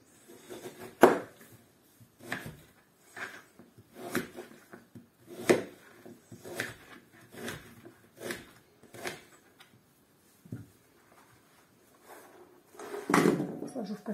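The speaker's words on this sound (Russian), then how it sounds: "Сейчас я его нарежу такими кубиками." Knife chopping a peeled pumpkin into cubes on a cutting board in a home kitchen, a series of distinct sharp cuts at uneven intervals, close and clear, with a heavier clatter near the end.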